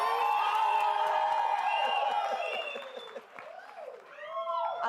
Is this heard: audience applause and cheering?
yes